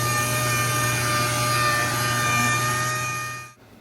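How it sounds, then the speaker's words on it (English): Bumper being sanded on a classic Monte Carlo with 320 and 400 grit sandpaper in a garage, a steady dense rasping hum running continuously, loud and close, then cutting off abruptly near the end. "as we are prepping the bumper with 320 and 400 grit"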